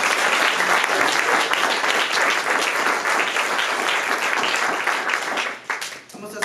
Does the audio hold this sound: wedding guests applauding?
yes